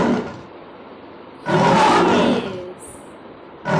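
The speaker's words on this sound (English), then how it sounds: "This sound is of lion." A lion roars in a loud, broad burst lasting about a second, set apart by quieter stretches and another rising onset at the end, with no talk over it.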